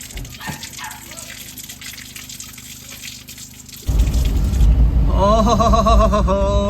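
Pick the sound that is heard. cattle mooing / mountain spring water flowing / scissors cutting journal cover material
mountain spring water flowing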